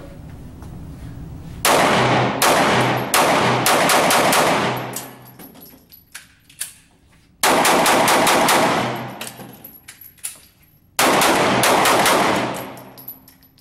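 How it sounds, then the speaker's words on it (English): Springfield XD-S pistol fired at a Q target on a range in rapid strings of sharp, loud shots, three bursts separated by pauses, with faint clinks between strings. "I'm going to put some rounds into the Q target"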